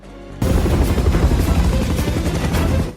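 Loud, rumbling helicopter noise from an action film about the White House being seized, starting abruptly and holding steady as a dense roar before fading.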